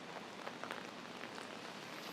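Rain patters steadily on an umbrella during a walk through downtown Singapore, a dense, soft hiss of drops with a few slightly louder taps and no voices.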